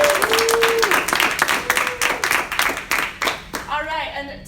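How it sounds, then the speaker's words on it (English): A room full of people applauds, the clapping dense and steady for several seconds before thinning out, with a voice rising near the end. "applause for Amanda"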